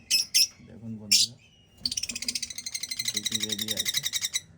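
Pet lovebirds in a breeding room chirp in short bright bursts, then a dense, rapid run of twittering calls carries on steadily and close, with people talking in low tones underneath.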